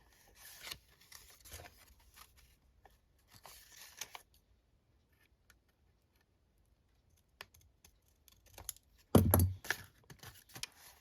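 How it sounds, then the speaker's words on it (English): Scissors cut around the corner of hand-stamped paper in quiet, sparse snips and rustles, with a louder cluster of crisp cuts near the end. "I'm gonna cut around the corner a bit."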